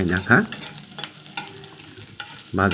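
Black cumin seeds frying in a pan for a ladies finger curry, a soft sizzle under a few sharp scraping stirs of a spoon, with bursts of clatter at the start and end.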